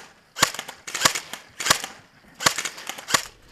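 Sniper rifle shots ring out in a video game set in an old factory, five sharp cracks spaced unevenly, each with a brief echoing tail, loud and close with no talk over them.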